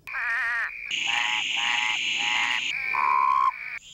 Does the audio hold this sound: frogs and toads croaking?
yes